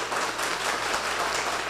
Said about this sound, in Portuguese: Vamos dar uma salva de palmas a essa palavra. Pode aplaudir bem forte.